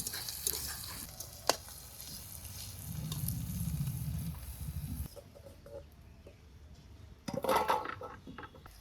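Meat is added to frying onions in a pan for home-cooked coriander chicken, giving a sizzling, crackling fry with stirring scrapes that swells and fades, with a sudden loud burst of sizzle near the end.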